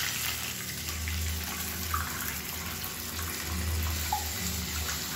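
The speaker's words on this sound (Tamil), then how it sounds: "இப்போ இதில் தண்ணி சேர்த்துக்கலாம்." Water pours steadily into a pan for kolukattai dough, a continuous splashing flow with a low rumble underneath, moderately close.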